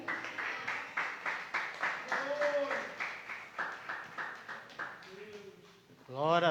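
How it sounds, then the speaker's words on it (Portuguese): Church congregation clapping in rhythm during a Portuguese-language worship service, steady repeated claps of moderate loudness over most of the stretch with a few voices heard, ending in a brief sung or shouted phrase. "Aplaude ao nosso Deus, amém?"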